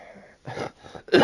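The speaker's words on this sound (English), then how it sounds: "Even that cough there" A person coughing or clearing their throat while gaming, two or three short, rough, close bursts separated by brief pauses, the last one loudest.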